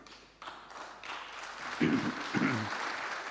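Applause breaks out in the Italian parliament for Draghi during his address on the war in Ukraine, a steady clapping wash that swells and stays fairly loud for a few seconds.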